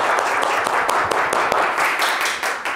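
Applause for the Força Tática police unit on a Brazilian crime news programme in Amazonas: loud, close clapping from a small group with distinct individual claps, continuous for a few seconds.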